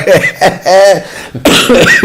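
A man coughs several times in short, sharp bursts close to the microphone, with a brief voiced throat-clearing or chuckle in between.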